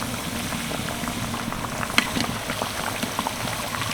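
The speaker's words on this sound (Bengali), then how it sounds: "প্রায় তিন থেকে চার মিনিট এই মিষ্টিগুলোর এক পিঠ ভেজে নিয়েছি" Taler rasoraj sweets frying in hot oil give a steady, soft, dense bubbling sizzle with scattered pops and crackles, continuous and close, with no talking.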